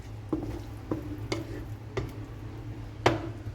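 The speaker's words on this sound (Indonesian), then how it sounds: "Aduk-aduk semuanya sampai tercampur rata dan juga sampai matang bumbu dan ebinya ini ya" Bitter melon sambal with dried shrimp is stirred in a pan, a spoon scraping and tapping the pan in a handful of distinct strokes over a faint sizzle, with no one speaking.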